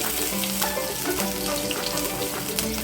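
Steady crackling sizzle of chopped garlic frying in a hot wok, continuous and fairly quiet, with small pops throughout.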